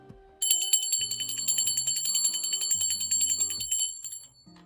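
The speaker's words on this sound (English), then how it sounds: "So I'm gonna ring my bell for my spirit guides, guardian angels, and ancestors." A hand bell rings for spirit guides, guardian angels and ancestors in a rapid, loud, continuous shimmering peal lasting about four seconds before stopping abruptly, with no talking.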